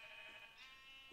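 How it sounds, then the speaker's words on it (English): Sheep bleating in the Minecraft video game, a brief wavering call heard close and clear over a steady game background, with no talk. "Oh, there's a sheep."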